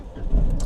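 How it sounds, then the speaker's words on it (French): A Peugeot 208 1.2 VTi petrol engine cranks and catches in a short, close burst that swells quickly, followed by a brief higher clatter. "Je commence par démarrer le véhicule. Déjà vous voyez, il démarre au quart de tour."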